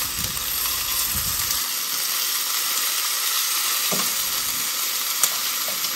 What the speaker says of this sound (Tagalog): stir fry lang natin siya ng konti para konting brown